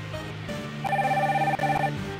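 A telephone rings in the game The Room, a bright electronic trill that starts partway through and repeats in two close bursts, fairly loud over a low background hum.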